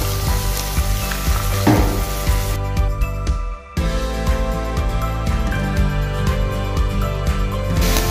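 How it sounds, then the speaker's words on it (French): Cranberries and shallots dropped into hot caramel in a pan sizzle steadily and loudly, with a brief dip in the hiss before it resumes at full strength. "Quand c'est devenu un beau caramel, on rajoute nos canneberges et nos échalotes françaises."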